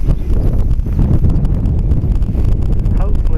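Strong gusty wind buffets the microphone outdoors with a constant roaring rumble throughout, on a blustery day of flying an HK-450FBL model helicopter.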